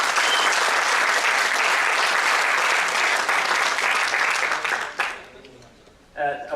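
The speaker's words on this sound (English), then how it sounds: "Let's hear an applause, a big applause for the Joomla architect." A large audience at a software conference session claps loudly and steadily for several seconds, then the applause fades out and a voice begins speaking.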